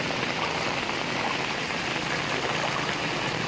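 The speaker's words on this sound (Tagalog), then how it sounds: "lakas ng agos" Fast-flowing floodwater rushes through a drain during heavy rain in Masbate, a dense, continuous hiss and gush of water close by with no talk over it.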